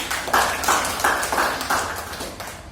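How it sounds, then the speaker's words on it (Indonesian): Classroom applause for a teacher, a small group clapping in a steady, regular rhythm of bright slaps at moderate loudness, continuing evenly throughout. "Mungkin kita berikan aplaus dulu untuk Ibu Yani."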